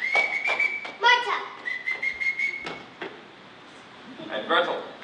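Sharp whistle blasts in short patterns repeat several times to call children, mixed with clattering footsteps and faint voices nearby.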